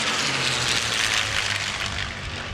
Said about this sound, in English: Again, the P-51 Mustang overhead